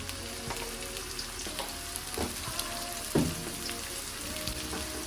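Sliced onions sizzle and fry in oil with a little salt for lemon rice, a steady close crackle with occasional sharper pops and stirring scrapes, no talking.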